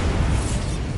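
A Bombarda explosion spell from the Hogwarts Legacy video game gives a brief, dense, loud blast of rumbling noise that fills the whole moment with no voices.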